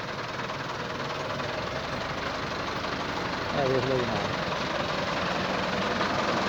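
A Massey Ferguson 385 tractor engine runs steadily at a low, rumbling idle, with a voice briefly speaking over it.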